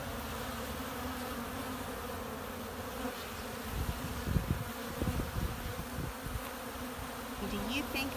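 Honeybees buzzing around a hive on a clover-foraging farm, a steady low insect hum close by that runs throughout with a few stronger swells of nearby wingbeats.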